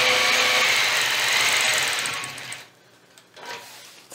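A sewing machine quilts a scalloped border along a quilting ruler, running loud and close in a steady whir for about two and a half seconds, then stopping, with a brief restart near the end.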